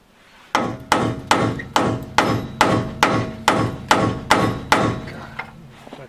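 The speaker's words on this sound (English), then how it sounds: "I'm swinging a hammer at a drift" Eleven heavy metallic strikes of a lump hammer on a drift, at a steady, even pace, close and loud, each ringing briefly before the next.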